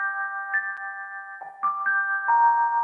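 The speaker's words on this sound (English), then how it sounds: "I just made it arpeggiated so it goes up and then down" A dark synth chord broken into an arpeggio for an evil trap beat, single sustained notes stepping up and then back down at a steady pace, clean and fairly loud with no voices.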